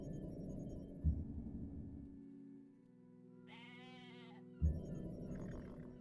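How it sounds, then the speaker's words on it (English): Sheep bleating as an in-game sound in Civilization 5: one clear, wavering bleat stands out against a low game hum, with two soft thumps and a musical drone around it. "Just hear a sheep make noise."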